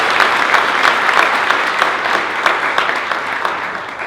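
Audience applause at a Hindi comedy poetry gathering in Atlanta, a steady dense clapping from a crowd that fills the whole stretch at even loudness.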